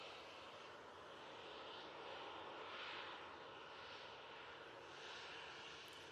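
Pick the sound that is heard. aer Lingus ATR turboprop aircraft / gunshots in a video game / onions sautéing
aer Lingus ATR turboprop aircraft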